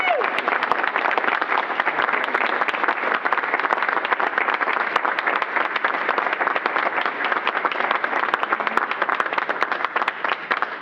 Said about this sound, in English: All right, folks, one more round of applause.